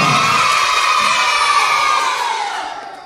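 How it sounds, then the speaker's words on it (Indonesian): A crowd of schoolchildren at an elementary school award ceremony cheers and shouts in a loud, sustained roar that fades toward the end. "Semua tepuk tangan."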